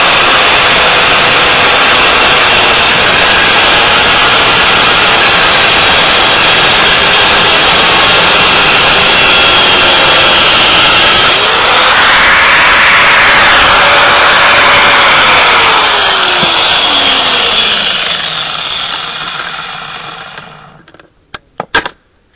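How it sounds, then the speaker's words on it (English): A handheld angle grinder cuts through a cart's metal rear axle, a loud continuous whining roar that shifts pitch as the disc bites and then winds down, ending with a few clanks. "So I'm going to cut that off with my grinder."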